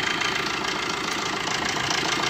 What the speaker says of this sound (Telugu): మీకు ఇంజన్ కండిషన్ చూపిస్తాను ఫ్రెండ్స్